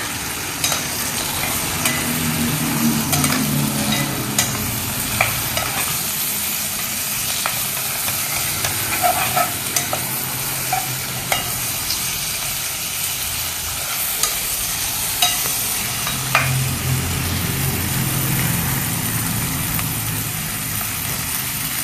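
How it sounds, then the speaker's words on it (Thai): Vegetables being stir-fried in a pan with no meat, a loud continuous sizzle and hiss with repeated scraping of the spatula over a low rumbling background. "ใส่ผักลงไปเลยครับ ผัดผักนะครับ"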